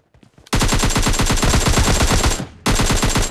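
Gunfire in the mobile shooter game PUBG Mobile Lite: a few soft shots, then a long loud burst of rapid shots, a short break and another burst, close and dominant.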